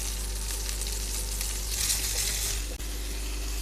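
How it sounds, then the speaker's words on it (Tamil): Onions sizzle and fry in a pan for a Tamil chicken potato gravy, a steady bright crackling hiss with a brief stirring clatter near the end, close and continuous with no talking. "வெங்காயத்தை போட்டு நல்லா ஃப்ரை பண்ணுங்கள்."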